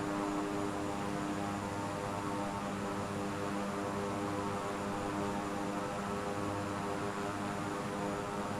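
Propeller airplane engine in Microsoft Flight Simulator drones steadily throughout, a constant even hum with no talk over it.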